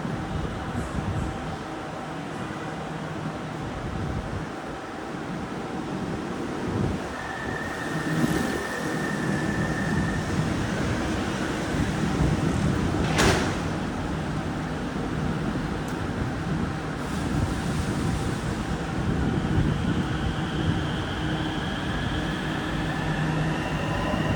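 A Bangkok MRT Purple Line metro train in motion, a continuous rumbling ride with rail noise and occasional squeals and clanks, heard from on board for a long stretch.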